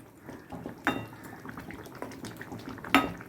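A spoon stirs palak chicken curry in a metal pot, with two sharp clinks against the rim over soft scraping and light wet stirring.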